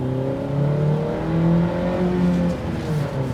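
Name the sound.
Honda Civic engine revving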